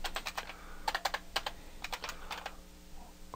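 Computer keyboard keys clatter in quick, uneven bursts of close taps as a terminal command is typed on an Ubuntu server, quiet and with no voices.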